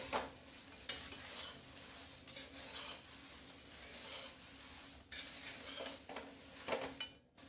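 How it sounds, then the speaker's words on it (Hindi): A spoon stirs spices through crisp nylon poha namkeen in a pan, giving a continuous dry rustle and scrape with occasional louder knocks against the pan, close and fairly quiet. "वो हम सारे मसालों को इसमें डाल देंगे। अब इनको हम अच्छे से मिला लेते हैं।"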